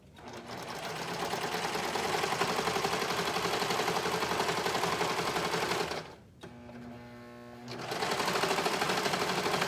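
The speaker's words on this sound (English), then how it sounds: "So the center curved seam, okay, just sew that right up." A sewing machine stitches the center curved seam of a pair of shorts, a steady close whirring run that pauses briefly, leaving a low hum, then picks back up at full speed.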